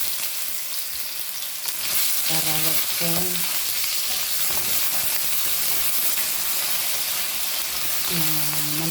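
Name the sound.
potatoes frying in a pan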